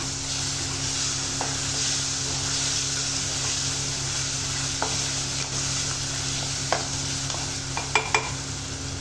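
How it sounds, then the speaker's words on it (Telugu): Ginger garlic paste frying in a pan for an eggplant curry, a constant broadband sizzle with occasional clicks and taps of a stirring spoon that grow sharper near the end, without talk. "అల్లం వెల్లుల్లి కొంచెం పచ్చివాసన పోయే వరకు కొంచెం కుక్ చేసుకుంటాం"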